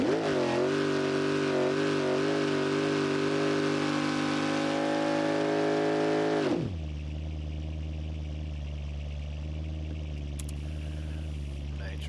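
In the BeamNG.Drive video game, a sport motorcycle on nitrous holds a loud, steady high-revving engine note, then drops abruptly to a lower idle-like drone for the rest of the clip.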